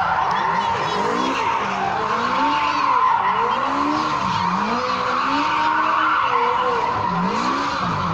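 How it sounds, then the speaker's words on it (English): A small stunt car spins on the spot with its brake locked beside a castle moat, tyres squealing in repeated rising and falling sweeps alongside the engine, continuous and close for the whole stretch. "Lock that brake, and that little car is just absolutely at his"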